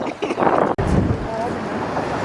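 Strong wind buffets the microphone on a Chicago architecture boat tour, a steady rushing roar with a brief dropout, while people talk over it.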